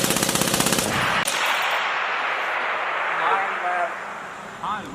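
A U.S. Army M250 6.8mm machine gun fires a rapid full-auto burst of about a second, loud and close, followed by fading echo and muffled speech in the background.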